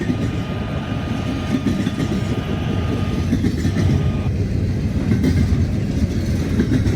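A double-decker train rolls steadily past on the tracks, a loud, continuous rumble with faint clatter throughout, no voices.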